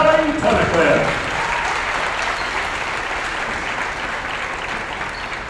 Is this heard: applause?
yes